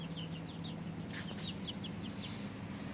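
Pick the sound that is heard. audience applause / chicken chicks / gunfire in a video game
chicken chicks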